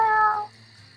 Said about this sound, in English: Oh, look at the little kitty.